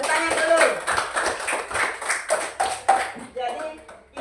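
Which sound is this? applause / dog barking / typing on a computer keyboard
applause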